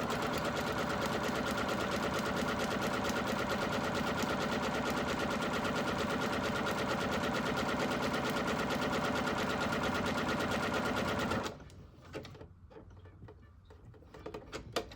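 A sewing machine stitches fabric for a drawstring bag in a rapid, steady mechanical chatter that runs continuously, then stops abruptly, leaving a few faint clicks and handling sounds.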